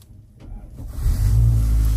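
A Mazda CX-30 being started by push button: a short quiet moment and an electronic chime, then the engine catches and settles into a loud, steady low rumble close by.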